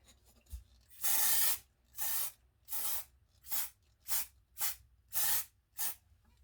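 Gold spray paint hisses from an aerosol can onto a cake tiara in about eight separate bursts of varying length, each with a sharp start and stop and quiet pauses between, close and alone.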